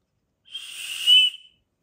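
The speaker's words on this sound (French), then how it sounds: "puis ici, vous avez le petit sifflet." A single sharp, high blast from the small whistle built into an Opinel No. 8 pocket knife, about a second long, rises slightly in pitch before cutting off in a quiet setting.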